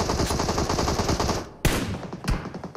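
Automatic gunfire in a PUBG Mobile match, rapid continuous bursts for about a second and a half, then a couple of sharp, separate loud shots.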